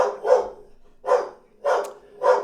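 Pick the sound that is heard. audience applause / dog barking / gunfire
dog barking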